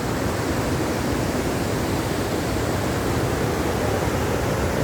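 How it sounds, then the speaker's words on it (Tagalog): Water pouring over Wawa Dam in Rodriguez, Rizal, a loud, steady rushing roar of falling water that fills the whole scene without letup. "kitang kita po ang part na yan kung saan bumabagsak po ang tubig"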